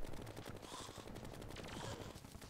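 Rapid, continuous automatic gunfire in Terraria during a solar eclipse, steady rattling bursts at moderate distance with no pauses.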